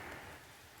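Steady rain falling outdoors over a swale in a garden, a soft broadband hiss with close patter, fairly loud and continuous throughout.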